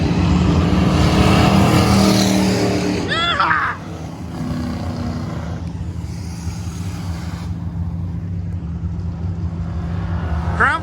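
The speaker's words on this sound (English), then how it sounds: "Crown Vic racing." A Ford Crown Victoria race car on a lap, its engine droning loudly and steadily up close, easing briefly before building again, with tire or wind noise over it.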